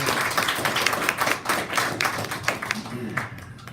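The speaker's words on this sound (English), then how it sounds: "I think we need to give them a round of applause again" Wedding guests give a round of applause at a Disney-themed wedding, a loose, fairly close patter of clapping hands that swells and thins in waves, with voices murmuring underneath.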